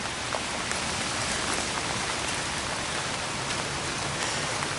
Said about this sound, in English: Well, raining pretty good.